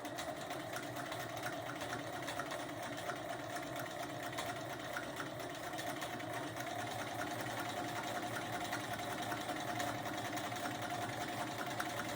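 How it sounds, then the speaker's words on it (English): A sewing machine stitches down the binding on a small quilted mug rug made from fabric scraps, running in one steady, continuous mechanical whir that stays level from start to finish, close by and with no talking. "let me sew this down real fast"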